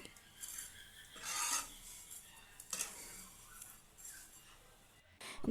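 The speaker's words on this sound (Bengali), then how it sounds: "সিমাইগুলো ভালোভাবে নাড়াচাড়া করে মিনিট 5 সময় ধরে গোল্ডেন ব্রাউন কালার করে ভেজে নিতে হবে" Vermicelli being stirred and fried in a pan, with soft rasping scrapes of a utensil dragging through the dry strands in irregular bursts, fairly faint and close, with no talking.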